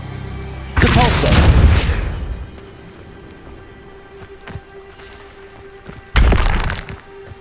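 A Depulso spell cast in the Hogwarts Legacy video game lands as a loud, brief burst with a crackling, shattering edge. A second similar impact strikes near the end, and a steady low hum fills the quiet gap between them.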